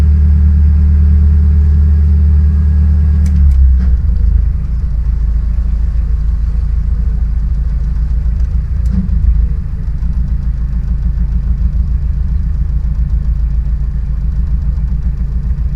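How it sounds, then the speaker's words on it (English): A boat engine in a canal lock at Atherstone Locks gives a loud, steady rumble idling throughout, low and droning, with a brief knock partway and a slight shift in tone after a few seconds. "There's a boat in the lock."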